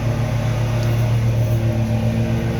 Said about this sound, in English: My husband is mowing outside